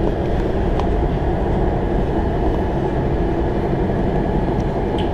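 A WMATA Kawasaki 7000-series metro train rumbles steadily along the rails on the Red Line, a loud, constant low roar with faint squeaks, heard from inside the car.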